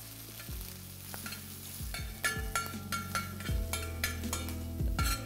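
Garlic, ginger and green chilli fry in oil for street-style Kolkata chicken chowmein, a soft sizzle broken by repeated scraping strokes of a spatula against the pan at an uneven rhythm.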